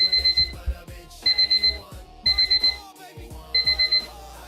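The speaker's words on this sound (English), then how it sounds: "That's my alarm" An alarm clock rings in repeated bursts of four rapid electronic beeps with short pauses between, loud and close in a quiet room.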